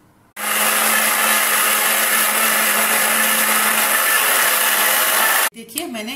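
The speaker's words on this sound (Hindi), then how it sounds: "अब मैं इसे मिक्सी में पीस लूँगी" A mixer grinder grinding garlic and other chutney ingredients (curry leaves, tomato, radish) whirs loudly and steadily for several seconds, then cuts off abruptly.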